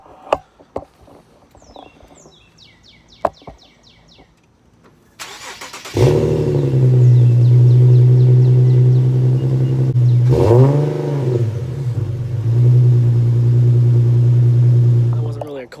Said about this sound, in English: I'm gonna do a cold start on the G37 real quick.